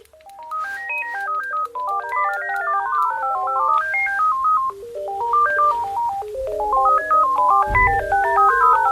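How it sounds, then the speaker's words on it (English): An electronic cordless phone ringtone plays a looping melody of beeping tones, loud and close, with two tunes overlapping out of step. "This is the sound of the phone."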